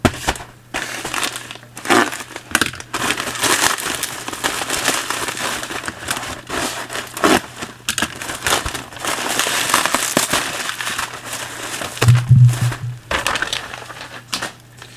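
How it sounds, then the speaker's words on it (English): A padded parcel is unwrapped, its cushioning packaging crinkling and crunching in dense, close bursts of rustle with sharp crackles, continuing steadily throughout. "It's got an awful lot of padding on it."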